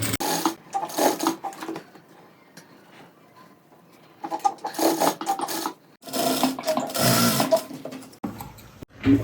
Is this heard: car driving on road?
no